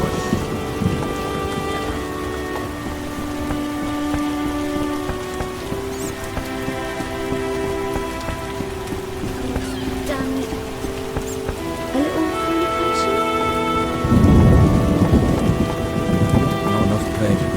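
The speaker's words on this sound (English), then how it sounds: "What a downpour." Heavy downpour with rolling thunder in The Witcher video game, a steady dense hiss of rain with repeated deep rumbles and a louder thunderclap near the end, no talking.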